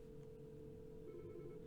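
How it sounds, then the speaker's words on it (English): An office desk telephone rings close by, a steady electronic ring tone that holds for the whole short stretch with no one talking. "And now it's ringing a phone that's right next to me and you can hear it"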